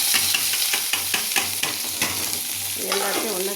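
Roasted spices, urad dal and cumin, are stirred together in a pan with a rhythmic series of dry scraping strokes over a steady sizzle. The sound is close and loud, continuous, with no talking.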